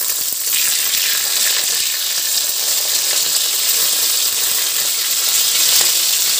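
Hilsa fish curry sizzling steadily in a hot pan as slit green chillies go in, a loud, continuous bright frying hiss with no talk.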